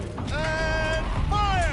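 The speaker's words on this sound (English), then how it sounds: "Rotate turret!" Turret rotating mechanism in the video game Horizon Zero Dawn, a short loud mechanical creak with rising and falling whining tones, heard in two sweeps across under two seconds.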